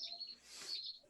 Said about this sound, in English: They're little teety birds.